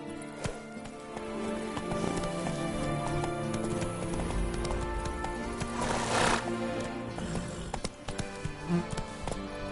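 Roach, the horse in The Witcher 3, gallops in a steady clip-clop of hooves under game ambience, and a whinny sounds partway through.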